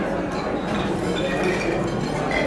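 Beer glasses clink together in a toast after a football fan talk, a few bright chinks standing out within a crowd of voices cheering and chatting close by.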